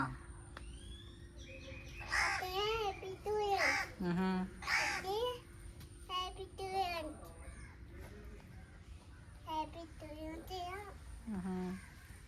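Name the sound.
crow cawing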